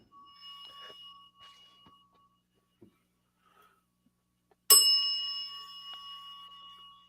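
A bicycle bell gives a few soft dings at first, then a single loud, bright ring that hangs and slowly fades over a couple of seconds, with quiet gaps in between.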